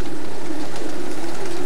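Soft, low cooing of racing pigeons murmuring steadily in an aviary, a continuous close warble with no talk.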